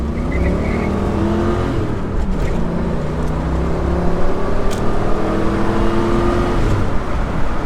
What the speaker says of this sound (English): But now it'll pull all the way up to red line.